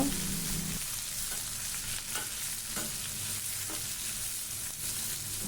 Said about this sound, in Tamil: வெங்காயத்தை சேர்த்து நன்றாக வதக்கிக்குங்க